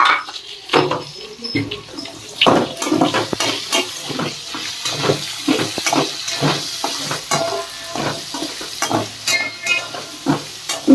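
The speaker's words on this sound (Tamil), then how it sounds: "இது ரெண்டை போட்டு நல்லா வறுத்துக்கலாம்" Green chillies, onions and tomatoes frying and being stirred in hot oil in a pan, steady sizzling with repeated spoon scrapes and clatter, close and continuous, no talk.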